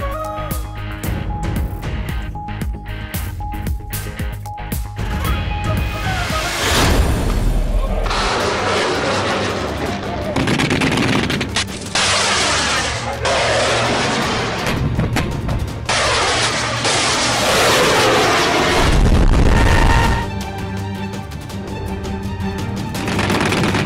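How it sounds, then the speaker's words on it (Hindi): Pakistani army air defense firepower display, with heavy booming anti-aircraft fire and rapid bursts of gunfire, loud and sustained, rolling in repeated waves with distant echoing blasts, over a constant background hum. "पाक फौज की जानिब से air defence fire power show का शानदार मुजाहिरा।"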